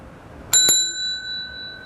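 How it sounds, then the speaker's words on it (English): Notification bell sound effect: two quick bright dings, close and clear, with a ringing tone that hangs on and slowly fades, heard alone without talk. "make sure to ring that little bell"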